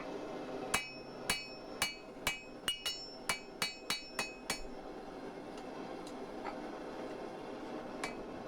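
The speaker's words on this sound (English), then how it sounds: "Holding the steel at an angle, hammering it at the same angle." Steady ringing hammer blows on hot steel while forging a sgian dubh blade, about a dozen evenly spaced strikes, then fainter scattered taps over a constant background hum.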